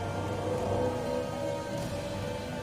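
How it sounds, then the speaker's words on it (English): Steady rain falls in a continuous wash of hiss, even and fairly loud throughout, with a low background rumble, over the Angolan highlands. "rain falling on the Angolan highlands to the north drains into the Okavango River"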